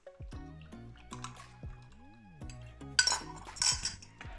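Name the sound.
pouring tomato sauce into a pot of stuffed peppers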